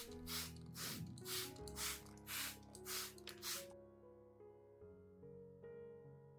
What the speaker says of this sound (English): I will lightly mist the surface of the growing medium of a zazie plant to help maintain a moderate level of moisture